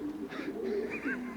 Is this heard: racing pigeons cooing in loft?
yes